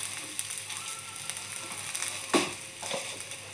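Coriander seeds drop into a hot pan and sizzle with faint, crackly frying and a few small pops, quiet and without talk.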